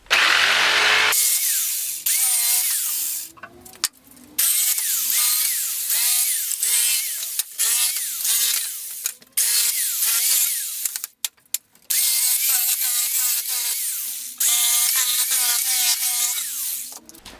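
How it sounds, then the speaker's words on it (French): A power tool cuts salvaged pallet wood into planks, whining loudly in repeated passes with short pauses between cuts, close and alone without talk. "je vais me servir de ces morceaux de bois là que je vais découper"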